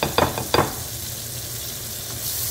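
Garlic frying golden brown in a pan for beefsteak: a steady, close sizzle hisses throughout, opened by a couple of quick stirring clinks at the start.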